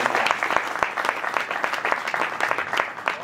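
Audience at a Hindi poetry gathering in Gwalior claps steadily for several seconds, a dense crowd applause honoring a guest, with no voices over it.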